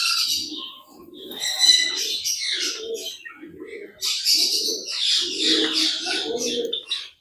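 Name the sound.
young dove at a mini zoo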